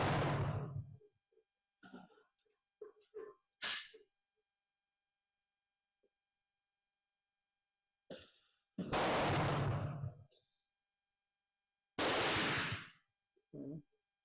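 A Danish rolling block rifle in 11.7 caliber firing at a target outdoors, a few loud sharp blasts with brief decaying tails, separated by silence and quieter handling noises.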